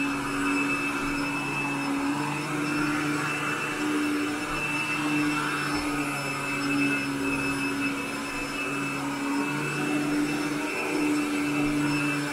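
Royal vacuum cleaner pulling dry soil out of a bedroom carpet, a loud continuous motor whine with a steady high tone and airflow roar, running alone without talk.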